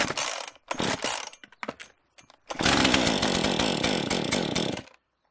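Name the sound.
Husqvarna chainsaw starting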